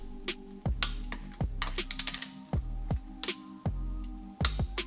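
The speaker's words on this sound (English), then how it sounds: "There's a click and there's a click." A torque wrench clicks and ratchets while tightening the fork clamp bolts on a CR250 motorcycle, giving sharp metallic snaps and bursts of rapid ratcheting up close.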